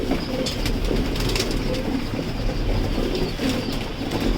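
Racing pigeon chicks and a flock of about fifty pigeons returning to a loft make soft cooing and bird sounds, steady and close, over constant low background noise with no talking.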